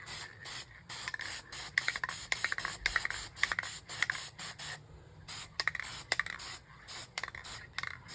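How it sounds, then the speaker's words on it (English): Spray paint hissing from an aerosol can onto a dark landscape painting with a portal, in repeated short bursts of close, steady spray separated by brief pauses. "be careful we don't spray over that too much"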